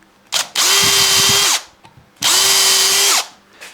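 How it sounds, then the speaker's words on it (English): A power drill bores string holes through a guitar body in two steady whining bursts, each about a second long, with brief quiet gaps around them. "drill the holes through for my strings to go through the body"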